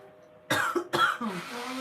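A person coughs twice in quick succession, fairly close and loud, then trails off into a low throaty rumble, all set against quiet room tone.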